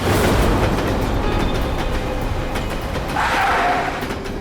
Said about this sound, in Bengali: ট্রেনের আওয়াজও শুনতে পেয়েছিলাম আমি